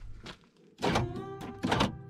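A 1997–2001 Honda CR-V door shuts, giving a few short, close thunks of moderate loudness separated by brief pauses.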